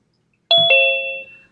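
A short two-note chime from Zoom signalling that someone is waiting to join a meeting, a clean doorbell-like ding-dong that rings out and fades over about a second.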